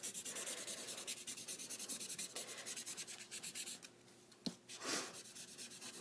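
A blender pen is rubbed rapidly back and forth on scratch paper to clear yellow ink from its tip, giving close, rhythmic scratchy strokes that briefly pause near the end before resuming, with no talking.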